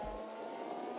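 Mercedes DTM race car engine in the DTM Experience racing game, a steady, loud, continuous drone with no speech.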